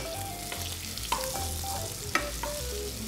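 Knedlik dumplings fry in a pan until golden, giving a steady close sizzle with a few sharp clicks and scrapes of stirring over about three seconds.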